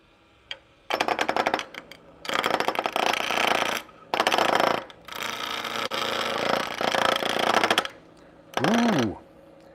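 A wood lathe running backwards on its first use, with a roughing gouge taking rough cuts on spinning wood, coming in repeated loud chattering bursts separated by brief pauses, ending with a rising-falling whine.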